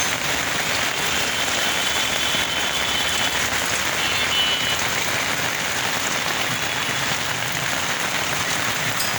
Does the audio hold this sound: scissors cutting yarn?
no